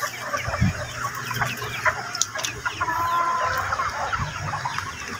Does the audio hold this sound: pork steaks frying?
no